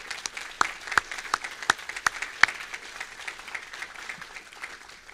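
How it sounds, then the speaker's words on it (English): An audience at a brass band festival claps, with sharp individual claps standing out from a soft, sparse round of applause that fades away. "so come and hear a round of applause for Carol and her team."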